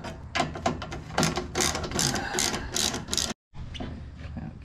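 Fasteners on a Mazda MX5 Miata headlight assembly being loosened, giving rapid ratcheting clicks in bursts, close and fairly loud, with a brief silent gap before more clicking.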